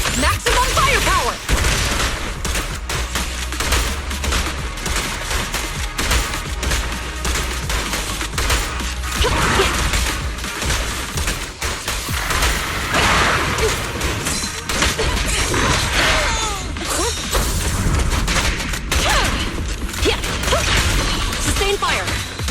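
Rapid gunfire from a K-22 suppressor weapon in the video game Zenless Zone Zero, sustained dense bursts with booms and crashes throughout, loud and close, with shouted voices over the shooting.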